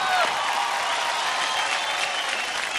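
Studio audience on a televised kids' dance competition show breaks into steady applause with some cheering, a full crowd clapping at moderate distance throughout.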